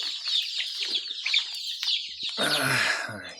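High, rapid peeping of many young black chicks and the clucking of chickens at an Andijan poultry sale, continuous and fairly close, growing denser and louder toward the end.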